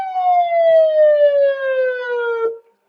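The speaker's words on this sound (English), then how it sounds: "beautiful siren" A single emergency siren wail sweeps slowly downward in pitch, loud and close, then cuts off abruptly, heard near a small-town baseball game.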